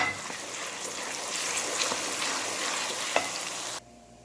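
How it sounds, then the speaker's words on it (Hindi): Steady, close sizzling of garlic and ginger paste frying in hot oil, with occasional stirring scrapes, cutting off abruptly near the end. "लहसुन अदरक जो मैंने पीस लिया है ये शामिल करके भूनते हैं"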